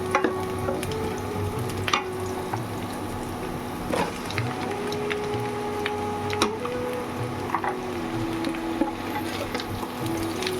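Pointed gourd (potol) frying in oil with dried chilli gives a steady, soft sizzle with a few sharp clinks of stirring, set under gentle background music with no talking.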